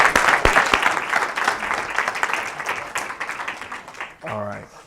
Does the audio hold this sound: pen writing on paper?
no